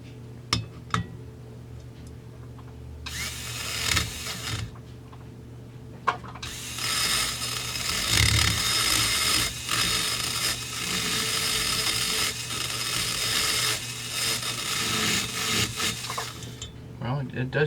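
Porting tool grinding inside a Husqvarna 350 OEM 45mm cylinder port, a loud, close, sustained buzzing chatter in two long bursts with a pause between, preceded by a few sharp taps and clinks.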